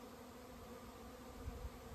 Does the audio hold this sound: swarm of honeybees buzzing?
yes